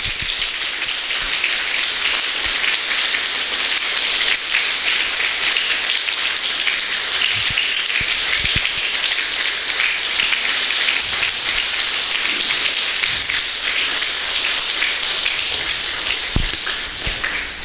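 A church congregation applauds together in celebration, a steady, dense wash of clapping that fills the room loudly and continuously from start to end, with no voices rising above it.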